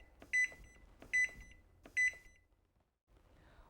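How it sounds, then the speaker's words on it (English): Zojirushi Home Bakery Mini bread maker giving three short, evenly spaced electronic beeps, clear and close, followed by a quiet pause and faint background noise. "Press the Start Reset key. You'll hear a beep, and the unit will start its cycle"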